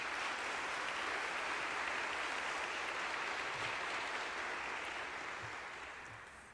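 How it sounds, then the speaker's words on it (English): Audience at a law school graduation ceremony applauding, a dense, sustained wash of clapping from a large crowd that fades slightly toward the end. "I ask you to give all those people a great big round of applause"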